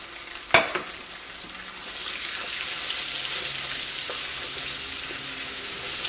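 Ground garlic and dried chili paste frying in a pan over medium flame, a sharp clatter at the start followed by a soft, steady sizzle with faint stirring scrapes.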